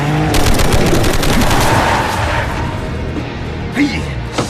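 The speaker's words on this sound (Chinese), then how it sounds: "他们要开火了，快点快点！" Rapid automatic gunfire bursts out in a Chinese action drama scene, a loud rattling volley of closely spaced shots that fades into rumbling background before a final sharp report.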